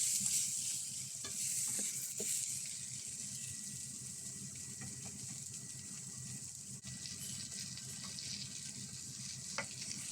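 Bay leaves being stirred around a frying pot for yellow rice with chicken and vegetables, giving a steady low sizzle with soft scraping stirs and faint watery clatter throughout.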